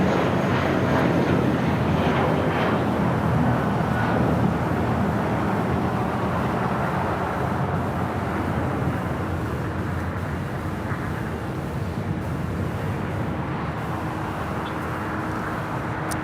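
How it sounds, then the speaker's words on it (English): A Volaris Airbus A320 takes off at LAX, a steady, loud jet roar that fills the whole stretch and fades only slightly toward the end, with no voices over it. "That was Volaris 7837 taking off to Zacatecas on an A320."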